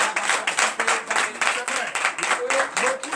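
A church congregation at a Sunday worship service in Comè, Benin, applauds loudly, with dense, rhythmic clapping that rises in steady waves throughout, while voices carry faintly underneath.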